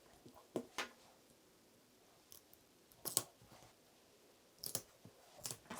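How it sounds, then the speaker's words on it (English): Tape is pulled and pressed down over joined A4 printed paper pattern sheets in a few short, crisp rasping bursts separated by quiet pauses, close and soft. "And then tape everything down."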